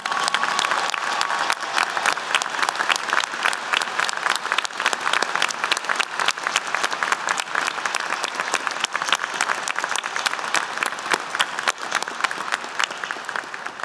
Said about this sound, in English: a round of applause for the United States military's newest commissioned officer